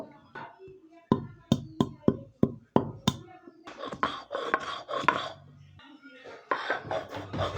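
Turmeric being ground by hand for a fish and bean curry, with a series of sharp, evenly spaced knocks of stone on stone followed by rougher scraping and rubbing, close by, with a voice speaking in between.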